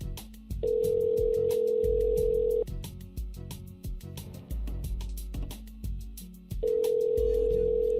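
Ringback tone of an outgoing phone call that goes unanswered, two long steady rings with a pause between them, clear and close over faint background noise.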